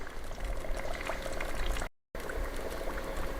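Quicklime fizzing and bubbling steadily as water is added for lime wash, a soft continuous hiss with faint popping, broken by a brief dropout.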